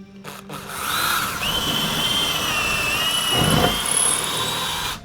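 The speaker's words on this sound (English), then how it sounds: "drill into the stud with the drill bit before we put the anchor in" A power drill bores into a wooden wall stud before an anchor goes in, its motor whining steadily at close range for several seconds and briefly rising in pitch as it bites.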